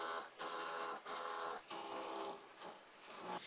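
Sewing machine stitching palazzo fabric, a steady close mechanical whir in several bursts separated by short pauses.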